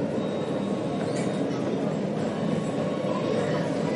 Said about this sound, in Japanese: ただいま走っております電車は南北線9000系